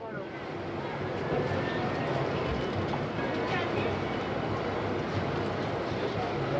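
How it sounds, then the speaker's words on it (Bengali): The Padatik Express passenger train starts to move, a steady broad rumble and rolling roar that holds at an even level for several seconds without any clear clanks. "এদিকে আমাদের ট্রেন চলতে শুরু করে দিল।"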